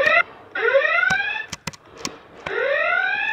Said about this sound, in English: There's an alarm. And there's red flashing lights.